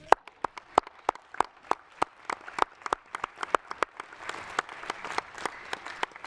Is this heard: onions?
no